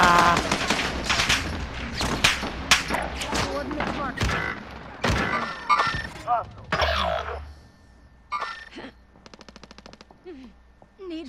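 Gunfire in the Warzone video game: dense bursts of automatic fire and sharp single shots crack over the first half, thinning to scattered shots and a fast rattling burst near the end, with players talking over it.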